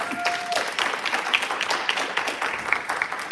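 Applause from a talk audience for Iris, a lively patter of many hands at fairly close range, steady in level, with a couple of faint whistles or squeaks above the clapping.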